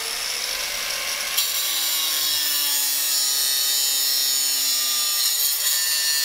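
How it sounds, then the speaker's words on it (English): Angle grinder cutting through the drive chain of a 2021 KTM 1290 Super Adventure S, a steady high-pitched grinding whine with gritty metallic scraping that holds loud and continuous, without talk. "and use a grinder"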